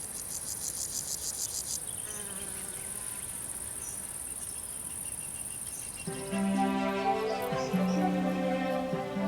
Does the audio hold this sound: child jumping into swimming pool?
no